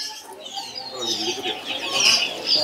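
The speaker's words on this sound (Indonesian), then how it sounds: "Nah, ini juga ada yang namanya burung ciblek sawah ya." A ciblek sawah songbird gives bright, repeated chirps and trills at a crowded bird market kiosk. Other birds chatter and voices murmur faintly around it, and the calls grow busier and louder toward the end.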